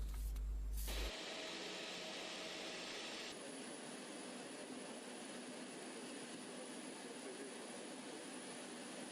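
Jet airliner engines whining and roaring at an airport on arrival, a loud steady broadband rush with a high whine, close by and continuous with no talk.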